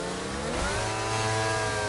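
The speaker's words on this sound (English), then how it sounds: "Lots of revving" Race car engine in a sim racing league event at Azerbaijan, revving hard and continuously, loud and close, its rising harmonic whine filling the clip with no voices.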